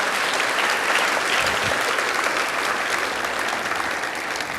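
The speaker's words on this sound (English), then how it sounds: "can we give these gentlemen a big round of applause?" A large crowd applauds loudly and continuously at an elementary school graduation ceremony, a dense wash of clapping that holds steady throughout.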